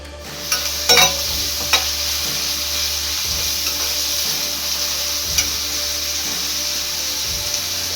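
Onions and spices sizzle and fry steadily in a hot pan, with a few clinks and scrapes of stirring near the start.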